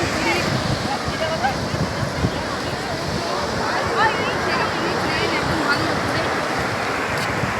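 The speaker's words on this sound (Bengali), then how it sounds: "সামনেই একদম সি বিচের কাছেই সমুদ্র," Sea waves break on a beach in the Digha–Mandarmani area, a continuous loud roar of surf mixed with wind rushing across the microphone, steady throughout and partly under a voice.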